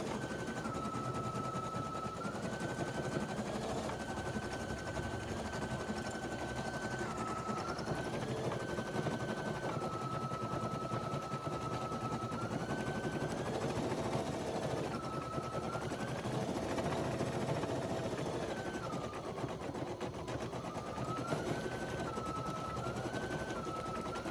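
A Babylock Flo embroidery machine stitches out a design with Threadnanny thread, a steady loud mechanical chatter running throughout with a repeating pitched whine that steps up and down as the stitching changes.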